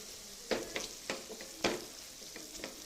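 Garlic and green chillies are smashed into thecha in a pan off the heat, a series of irregular soft thuds and scrapes against faint hot-oil crackle, quiet and close.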